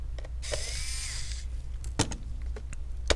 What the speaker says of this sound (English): So let me remove the two screws.